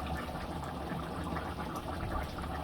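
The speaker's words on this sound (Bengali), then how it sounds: "বন্ধুরা, এখন আমি তেল দিয়ে দিব" Cooking oil poured into a pot for spicy beef curry, a steady close liquid pour and gurgle running for the whole moment without pause.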